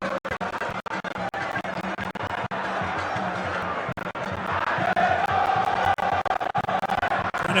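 Football fans in a stadium during a match between Asante Kotoko and Hearts of Oak make a steady distant crowd roar that swells slightly louder toward the end, with no clear talk over it.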